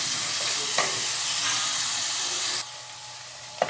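Crushed ingredients fry in a pan for a Kerala-style tender jackfruit (edichakka) dish, a loud dense sizzle with stirring scrapes that drops off abruptly partway, leaving a quieter hiss and a final clink.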